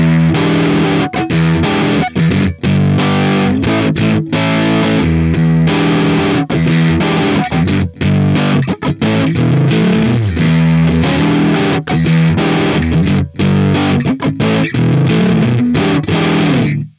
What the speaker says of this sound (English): If I go to position four, let's see, it should sound the same.